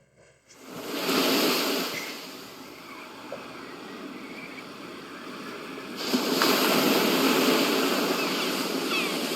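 Ocean waves wash onto a beach in the video game Life is Strange Remastered, a continuous surf wash that swells louder partway through and stays full and close.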